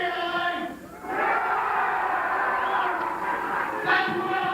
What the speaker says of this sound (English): Huge crowd here in Van Nuys.